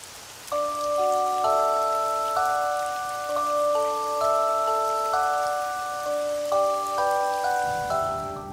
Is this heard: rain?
yes